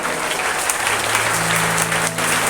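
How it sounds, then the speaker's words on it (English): A school assembly audience applauds the prize-winning students, dense steady clapping from a crowd, loud and close throughout the short burst. "Let us once again give a loud applause to the students who bagged all the prizes for the topic."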